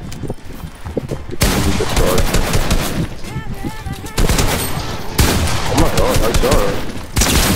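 Rapid gunfire in a first-person shooter video game, dense bursts of automatic shots nearly continuous and loud, with an excited voice talking over them.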